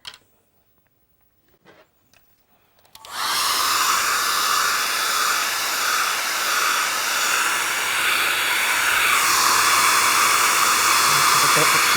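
A hair dryer blowing steadily up close to dry a wet watercolour painting of a Scottish scene, starting abruptly after a few seconds of near silence with faint taps and holding a loud continuous whooshing roar to the end.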